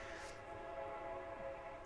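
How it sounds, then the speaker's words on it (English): Train passing outside an open window about 200 feet away on a warm day, a faint steady rumble with a drawn-out tonal horn-like drone heard from a distance indoors. "I beg your pardon if you hear the train."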